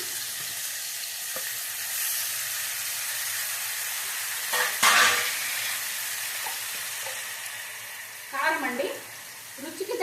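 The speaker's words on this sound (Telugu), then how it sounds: "ఇదిగోండి రెండు టమాటాలు వేస్తున్నా" Two tomatoes go into a simmering brinjal curry in a hot pan, making a steady close sizzle and frying hiss with scraping stirs and a brief louder burst midway. A voice speaks faintly near the end.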